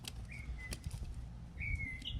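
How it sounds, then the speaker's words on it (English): Wild birds outdoors in the morning, a few thin whistled chirps and calls rising over steady low background rumble, fairly faint and spread across a couple of seconds. "And the birds are wild this morning."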